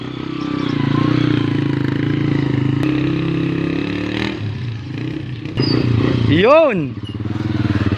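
A Honda TMX motorcycle on a test ride rumbles steadily up close, its engine rising into a quick rev near the end, with people talking over it.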